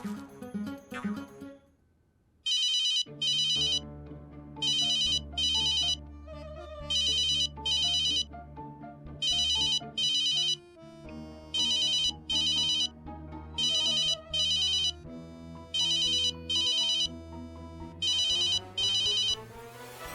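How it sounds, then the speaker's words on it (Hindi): A phone ringtone plays a repeating electronic melody with bright, regular bursts over a steady backing, loud and close, with no talking. "अरे ये तो अंदर से आ रही है आवाज।"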